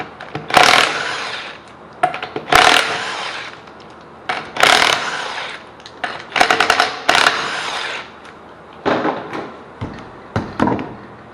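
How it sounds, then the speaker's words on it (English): A power tool on a Ford Taurus wheel, likely an impact wrench on 19mm lug nuts, buzzes and rattles in repeated short loud bursts with brief pauses between, close up, with no talking. "let's go ahead and get this wheel off here"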